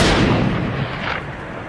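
Sniper rifle shots in a film training scene at a virtual target range, a dense burst of booming reports with a decaying rumble, loud and close, with no speech.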